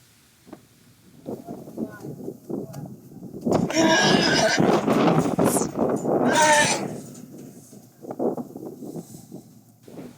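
A horse rescued from a feedlot, fearful and aggressive around other horses, whinnies loudly and at length, close by, with snorts and shuffling around it and some quieter sounds before and after.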